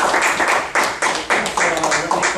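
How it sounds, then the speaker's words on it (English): A small audience at a Toastmasters meeting claps for the speakers, close and sharp with a loose uneven rhythm and several distinct bursts. "Let's give our speakers a big round of applause."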